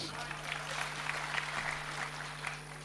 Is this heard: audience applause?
yes